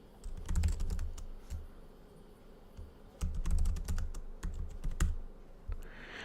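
Typing on a computer keyboard, bursts of rapid close clicking keystrokes with short pauses between them, clear and without talk.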